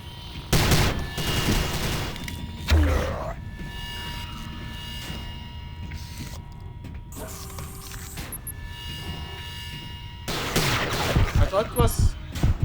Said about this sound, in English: I thought it was a turret or something